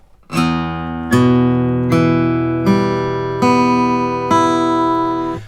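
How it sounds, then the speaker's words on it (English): Six guitar strings plucked one at a time at an even, unhurried pace, each note ringing on as the next sounds, clear and close. "what you might want to do is pluck every string individually"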